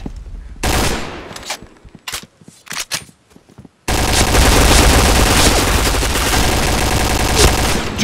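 Video game gunfire: a few sharp, scattered shots and short bursts, then a loud, continuous barrage of rapid automatic fire that fills the rest of the moment.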